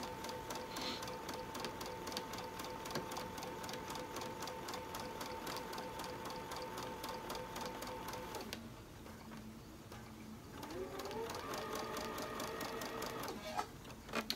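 A sewing machine stitches quilt fabric along a quarter-inch seam, humming steadily with a fast rhythmic needle chatter, pausing briefly midway before resuming at a slightly different pitch.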